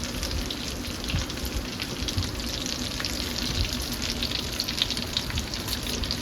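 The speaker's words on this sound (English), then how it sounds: "Grab some of the cabbage, and we're gonna drop it in the pan like this." Cabbage frying in a hot pan while pork chops are made, giving a steady, dense crackling sizzle heard up close with no voices.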